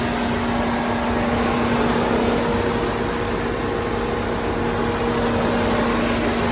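A 2017 Jeep Grand Cherokee SRT with a 6.4-liter HEMI V8 runs at a steady idle, a constant broadband engine hum with a low droning tone, close and even throughout with no speech.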